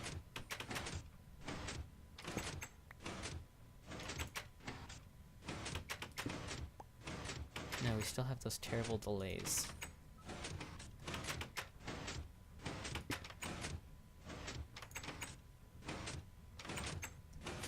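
A repeating door mechanism in a Minecraft redstone build clacks open and shut in a steady rapid rhythm, loud and close, while someone talks over it.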